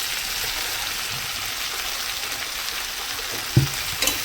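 Mixed vegetables fry in a pan with a steady, close sizzle as chopped eggplant goes in. A couple of soft stirring knocks come near the end, and nobody speaks.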